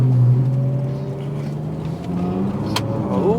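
A Porsche 911 Turbo engine rumbles close by at a car meet, holding a steady low drone and then rising in pitch as it revs near the end.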